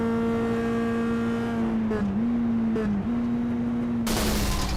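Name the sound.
race car engine blowing up in iRacing video game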